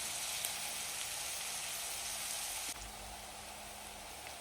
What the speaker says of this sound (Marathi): कांदा दोन ते तीन मिनिटासाठी छान असा परतून घ्यायचा आहे मिरची सॉफ्ट पडेपर्यंत